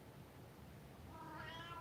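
A cat lets out one short, faint meow toward the end, over a low background hum in an indoor room.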